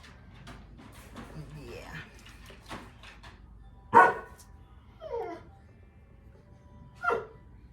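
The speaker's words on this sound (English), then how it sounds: "I'm ignoring that dog because he don't need to go out." A dog barks a few times at middle distance, sharp yelps around the middle and end, wanting to be let outside, heard over a quiet indoor room with faint household noise.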